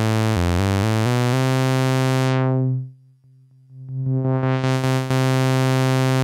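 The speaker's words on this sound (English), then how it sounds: "The first filter is an OTA multi-mode filter with high pass and low pass modes." A buzzy tone from an IK Multimedia UNO Synth Pro X through its MS-20-style OTA low-pass filter, brightness sweeping down until almost muffled, then opening back up, with a few rhythmic note retriggers, loud and alone.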